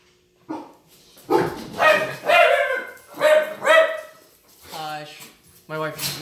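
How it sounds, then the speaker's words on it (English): Several dogs bark in a garage in repeated loud, close bursts, with a few higher yips and whines near the end and a person's voice mixed in. "My wife just released the dogs in the garage."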